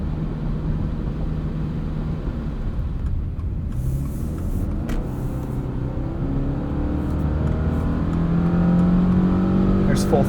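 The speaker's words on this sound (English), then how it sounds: "There's full throttle." A 2024 Subaru Crosstrek Wilderness accelerating at full throttle from inside the cabin, a steady engine drone with rising tone and road noise that grows slightly louder toward the end.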